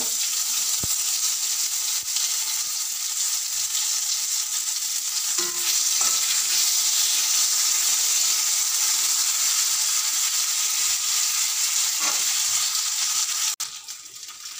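Ground cumin and black pepper paste with whole cumin tempering frying in hot oil for a thin rohu fish curry: a loud, continuous sizzle close by, with a few scraping stirs and light clinks of the spoon against the pan.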